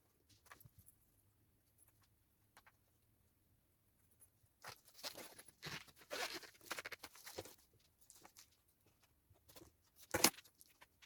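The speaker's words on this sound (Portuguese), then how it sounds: "antes de refilar o zíper, eu tenho que colocar os cursores" Small metal zipper sliders being fitted onto a zipper for a mini backpack give faint, close clicks and light metallic rattles in short bursts, with one sharper clink near the end.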